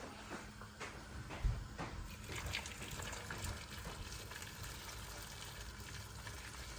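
Water poured from a kettle into a pot of potatoes, a steady, close splashing and gushing stream that runs throughout with a brief knock near the start.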